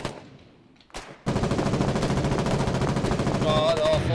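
A heavy machine gun in the war game Foxhole fires sustained rapid bursts, loud and close, after a second of quieter ambience with a brief earlier shot.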